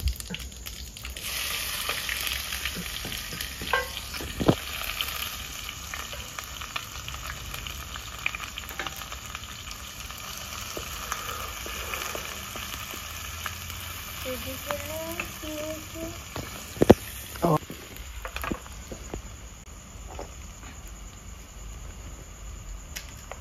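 Chopped onion frying in hot oil with cinnamon, two bay leaves and whole cumin, a steady soft sizzle with occasional stirring scrapes and clinks, close by; a brief voice is heard in the middle.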